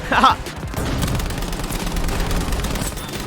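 Gunfire in the video game Battlefield V: a loud burst at the start, then a steady dense rumble of distant shooting and explosions carrying on underneath through the rest.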